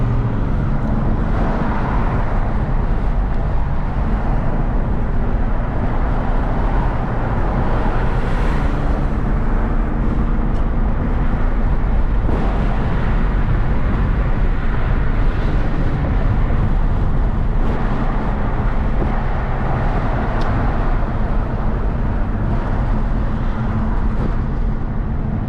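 Steady road and tyre roar inside a Hyundai Genesis Coupe 3.8 driving through moderate traffic, a continuous loud wash of engine and passing-vehicle noise with no breaks and no voices.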